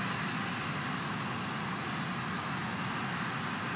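A United Launch Alliance Atlas rocket climbs from Cape Canaveral carrying a national security payload, its engines a steady, dense, broadband roar that holds unbroken and loud throughout, with no voices.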